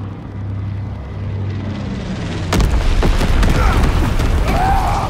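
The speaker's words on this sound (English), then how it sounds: "Enemy bomber approaching." Enemy bomber aircraft approaching in Call of Duty: WWII, a steady low propeller drone with no talk over it, then a sudden louder, broadband rush of noise and rumble that holds to the end.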